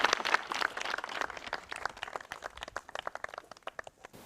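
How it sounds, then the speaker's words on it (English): An audience applauds at a live speaking event, a dense patter of clapping that starts fairly strong and thins into scattered claps over a few seconds, heard from a moderate distance. "The audience applauds and the park ranger walks out of screen."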